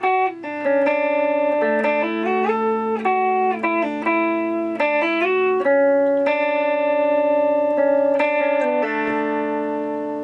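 An electric guitar with distortion and effects plays a riff: sustained, ringing notes that slide and shift pitch in steady phrases, loud and alone, no voices.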